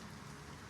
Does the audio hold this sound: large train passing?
no